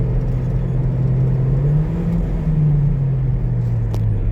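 A Ford Transit van with a faulty gearbox missing third and fourth gears drives along. The engine drones loud and close in a steady low hum, and its pitch rises and dips briefly midway as it shifts down.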